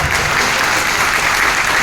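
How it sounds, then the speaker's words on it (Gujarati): An indoor audience at a sales gathering claps loudly and steadily for the full stretch, a dense, continuous wash of hands with no voices rising above it. "પાડો તાળી બરાબર પાડો."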